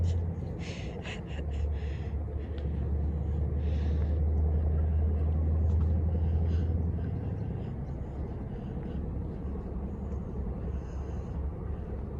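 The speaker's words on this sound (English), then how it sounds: "we're quite near to a main road here, which is why that truck sound is so loud" A heavy truck rumbles past on a nearby main road in a wetland park at dawn, a low roar that swells and fades over several seconds, with faint bird calls above it.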